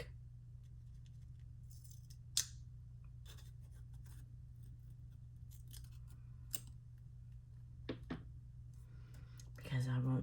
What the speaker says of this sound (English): what I'm going to do is cut off some parts off the back.